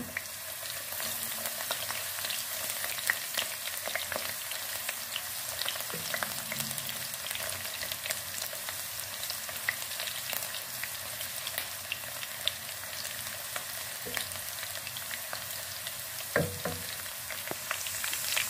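Steady sizzling of garlic frying in hot oil for moong dal tarka, continuous and close, with occasional stirring clicks and no voices.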